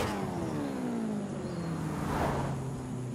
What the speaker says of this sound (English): that's a V12.